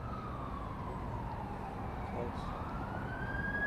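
Fire truck siren in North Austin fading as it moves away, its wail dipping then rising again, fairly distant and steady over low traffic noise.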